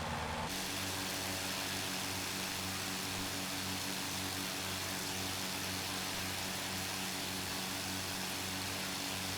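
Steady propeller drone of a Tiger Moth biplane's engine in a flight simulator, heard from outside the aircraft, a constant even hum with a low pulsing beat throughout, no talking.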